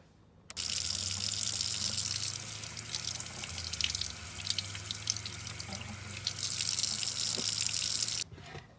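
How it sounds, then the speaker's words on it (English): Tap water runs steadily into a kitchen sink as food is rinsed under it, a continuous splashing rush that starts abruptly and stops near the end, with no talking. "Now we're going to rinse it off."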